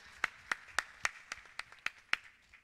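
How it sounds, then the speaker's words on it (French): Hand claps ring out at a church service in about nine evenly spaced, sharp strikes roughly a quarter second apart. They come across fairly clean, sounding like one or a few clappers, with no voices over them. "On applaudit le Seigneur ensemble."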